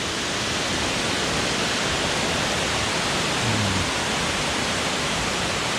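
Water pours steadily over Kroeng Krawia waterfall, a loud, even roar that fills the scene without pause.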